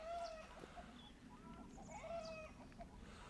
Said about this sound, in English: Why is the rooster upset? The rooster's upset about something.